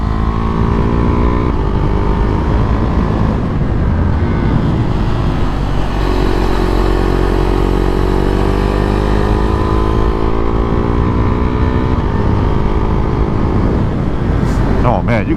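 A 2022 Husqvarna Vitpilen 401 motorcycle hums loudly and steadily at riding speed, its engine note rising and falling through gear changes, with heavy wind rush and a rider talking over it.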